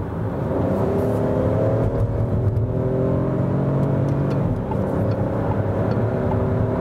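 Turbocharged Peugeot 5008 with an automatic gearbox accelerates from 60 to 100 km/h, its engine droning loud and steady inside the cabin as the pitch climbs and eases through shifts.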